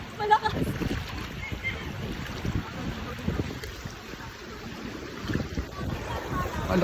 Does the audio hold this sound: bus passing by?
no